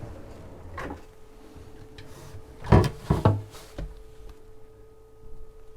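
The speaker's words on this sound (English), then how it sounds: "Big stowage drawers below." Big stowage drawers on a Bali Catsmart catamaran slide open with a few sharp knocks and rattles in quick succession over a steady low hum, fairly close.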